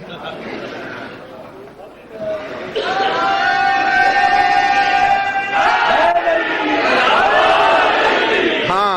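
A majlis crowd gathered for a Muharram gathering chants slogans in unison, rising from a murmur into loud, sustained collective shouting that fills the hall for several seconds.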